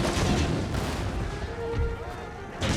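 Cannon fire in the Total War: Empire strategy game, rolling booms and crackling volleys layered into a dense, continuous battle din with a fresh blast near the end.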